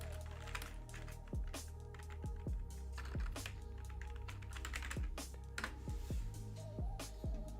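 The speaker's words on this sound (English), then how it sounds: "Sorry, I know my typing's loud." Loud, fast typing on a computer keyboard during a live day-trading stream: a dense, steady clatter of close key clicks with sharper, heavier strikes every half second or so, with no one speaking.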